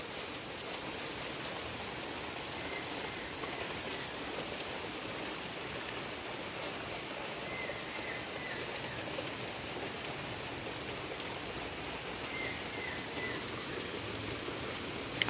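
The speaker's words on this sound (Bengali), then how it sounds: "দেখো কীরকম বৃষ্টি। খুব জোরে হচ্ছে তাও না, আবার যে খুব আস্তে হচ্ছে তাও না।" Moderate rain falls outdoors in a steady, even hiss that stays at the same level throughout, with a single faint tap near the end and no voices.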